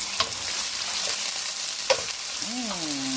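Steady hiss of onion and thyme frying in hot coconut oil, with a few faint stirring clicks against the pan and no voices.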